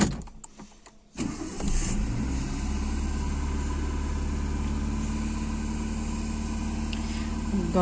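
A car engine cranks and catches after about a second of near silence, then settles into a steady, fairly loud idle that continues unchanged to the end.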